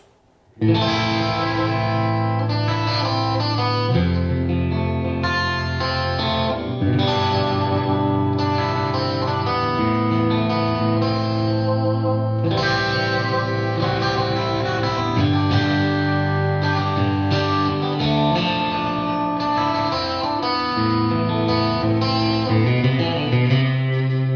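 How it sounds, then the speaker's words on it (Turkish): Electric guitar through a Marshall 1960 cabinet loaded with four Vintage 30 speakers, miked with an SM57, played on a Taurus Stomphead 4HG crunch channel with delay, chorus and reverb: sustained distorted chords and melodic lines ringing with echo for the whole stretch, no talk. "Şimdi crunch kanalı efekte duyuyoruz. Efekte delay, chorus ve reverb kullanıyorum."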